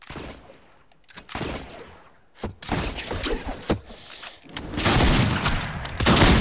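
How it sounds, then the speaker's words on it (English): Rapid rifle fire in a shooter video game, with bursts of loud cracking shots, heavy booms and breaking impacts, some shots nearby and some farther away, with no talking. "this isn't really a long range gun, but it shoots fast"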